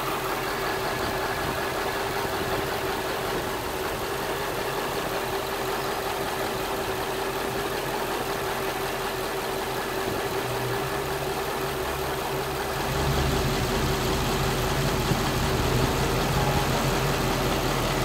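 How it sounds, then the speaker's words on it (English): A Mercedes W211 E55 AMG engine idles steadily but roughly with a constant low rumble and drone, close and continuous, growing slightly louder and deeper near the end. "Engine looks somewhat steady, but you can feel the vibration on it."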